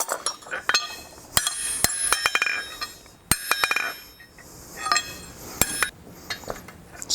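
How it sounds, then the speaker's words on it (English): A hammer strikes a chisel to open a slit hole in hot steel, sharp metallic clinks in irregular clusters, some ringing, close and fairly quiet with gaps between blows. "I'm going to give another heat and just open it up a little bit more with the chisel"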